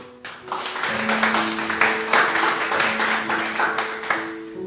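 A church congregation applauds together, a steady wash of many hands clapping at close range that swells and holds for several seconds, with sustained musical tones ringing beneath.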